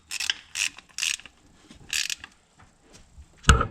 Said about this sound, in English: This torque wrench has the right amount of torque, it just doesn't make very loud